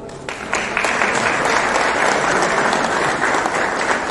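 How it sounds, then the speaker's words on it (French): At the opening of a luxury car dealership in Meknes, an indoor audience breaks into applause that swells within the first half second and then holds as dense, steady clapping. "je vous demande d'applaudir"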